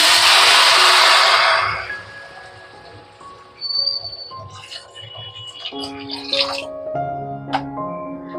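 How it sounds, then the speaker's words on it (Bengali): Hot water poured into a pan of basmati rice that has been frying over a medium gas flame, giving a loud rushing hiss and sizzle for about two seconds before it settles into quieter bubbling and clinks of stirring. "এবার আমি গরম জলটা দিয়ে দেব।"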